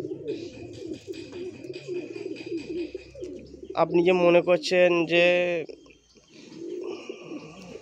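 Pigeons coo in a loft, soft low murmurs running beneath someone talking, with a brief burst of louder calls and chirps partway through.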